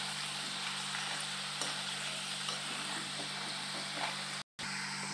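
Tapioca chips frying in hot oil, a steady dense bubbling sizzle that runs close and even throughout with a brief cut near the end, with no voices.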